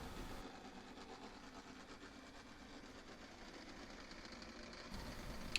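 Class 47 diesel-electric locomotive moving out of a platform at a preserved railway gala, a faint steady rumble with a soft rhythmic clatter running evenly throughout, with a brief sharp click near the end.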